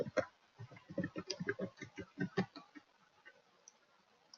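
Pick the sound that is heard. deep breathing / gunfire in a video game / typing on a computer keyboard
typing on a computer keyboard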